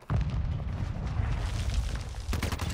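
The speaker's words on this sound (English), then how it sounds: "You throw a grenade." A grenade blast in the Modern Warfare II video game: a loud, sudden boom that rolls into a sustained low rumble, followed by another sharp burst near the end.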